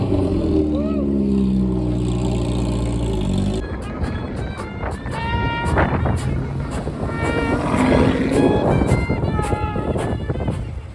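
A Technica sports car passing at a classic-car racing event, loud throaty engine roar with a broad dense rumble and harmonic whine, steady then rising near the end, amid crowd noise and talking voices.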